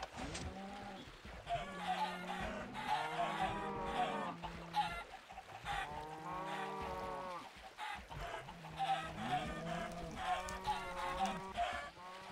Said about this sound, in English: I could have all 3 lots of chickens all in that tube right now